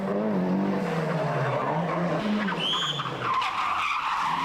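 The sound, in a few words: Mazda rally car skidding on the wrong tyres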